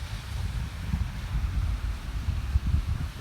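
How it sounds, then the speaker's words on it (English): Gusty wind outdoors at a campsite near Rock Point buffets the microphone in low, uneven rumbles that rise and fall in strength, with no talking. "It's really nice. And windy."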